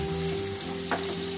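Curry leaves and other aromatics sauté in hot oil for Indian samak pulao, giving a steady close sizzle and crackle with a brief stir partway through, no voices.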